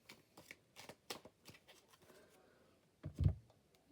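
A deck of cards being shuffled by hand in quick riffling bursts, quiet and close, ending in one louder thump as the deck is squared.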